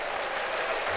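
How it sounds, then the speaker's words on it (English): Applause during a live paranormal investigation broadcast, a steady dense wash of clapping that fills the whole short moment at moderate level with no talk over it. "we want to give a round of applause to her"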